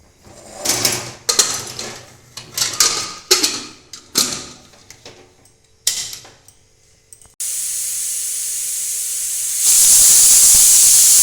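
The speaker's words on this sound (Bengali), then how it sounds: "ডাল আর আলুটা একটা সিটি দিয়ে নিচ্ছি" A pressure cooker cooking chana dal and potato, preceded by rhythmic ticking and clicking bursts, then a steady loud steam hiss that jumps to a brighter, louder whistle-like release near the end; no talking.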